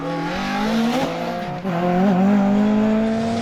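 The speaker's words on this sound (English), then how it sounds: "They do have a spin in this loop, but nothing too serious." MG Metro 6R4 rally car on an Anglesey circuit rally stage, engine droning with rising and falling revs and a brief dip midway as it spins, tyres scrubbing under the engine noise.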